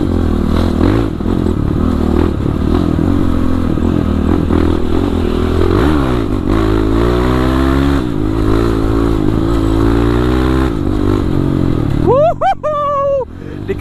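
A Kawasaki KLX 450cc supermoto motorcycle engine drones steadily with rising and falling pitch as it revs, loud and close, with a voice speaking over it near the end.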